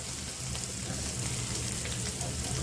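Garlic paste frying with reddened fried onions in hot oil gives a steady, dense sizzle that holds evenly throughout, close and alone with no talk.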